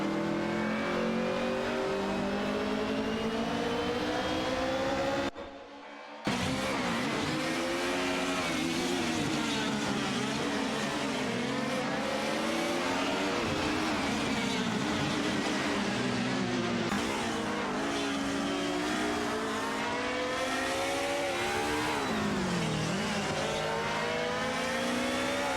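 Race cars in a sim racing video game, including a Mercedes 190 Evo 2, engines droning and revving steadily with rising and falling pitch through gear changes, loud and continuous with a brief dropout near the start, no talking.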